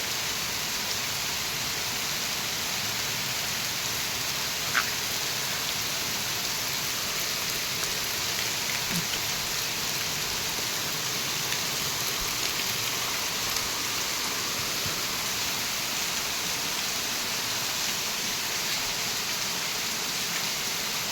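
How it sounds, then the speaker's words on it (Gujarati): Heavy rain falls steadily and evenly for the whole stretch, a dense continuous hiss with an occasional faint drip or tap standing out. "આમ જો આ કેટલો વરસાદ પડે છે."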